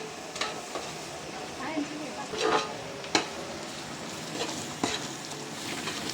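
Spices toasting in ghee in a pan, stirred with a utensil that gives several sharp scrapes and clinks over a steady sizzling hiss, close up, with someone speaking over the frying.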